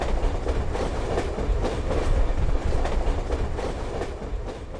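Passenger train at a scenic railway in Jim Thorpe, Pennsylvania, rolling close by with steady loud rumble and rhythmic clickety-clack of wheels over rail joints, no voices.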